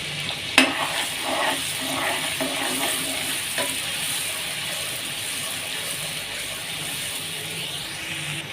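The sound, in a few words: finely chopped onion frying golden in oil in a kadai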